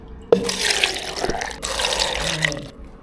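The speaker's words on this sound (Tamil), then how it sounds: "தண்ணி ஊத்துறேன்" Water is poured from a container while onde onde is being made, splashing steadily and loudly in two close pours with no talk.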